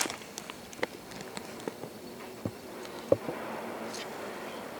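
Honeybees stirring inside an opened hive in winter, a faint low buzzing hum with scattered soft taps and knocks as frames are handled, quiet and close.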